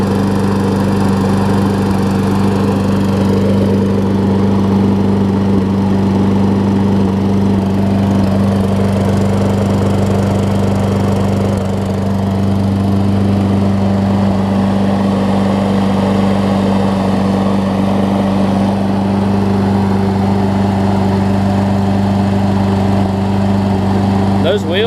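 A Toro Recycler self-propelled push mower with a Tecumseh engine and a new carburetor runs steadily at a loud, even drone with no breaks, heard close up.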